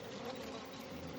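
Honeybees swarm in an opened hive at an apiary, a dense, continuous close buzzing drone with no pauses, roughly two weeks after the queen's mating flight.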